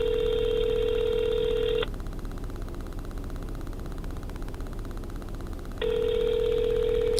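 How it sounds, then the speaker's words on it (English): A telephone ringback tone sounds over the line while a call goes unanswered, two long steady tone bursts separated by a few seconds of quiet line hiss. "Nobody wants to answer their phone this morning."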